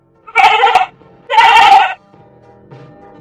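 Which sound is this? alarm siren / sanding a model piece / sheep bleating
sheep bleating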